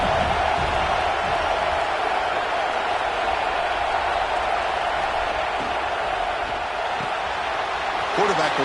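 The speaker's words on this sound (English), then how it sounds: "this crowd is fired up. Listen to this noise here." A college football stadium crowd, Auburn at home, keeps up a dense, continuous roar of cheering and noise, loud and steady under a commentator's voice.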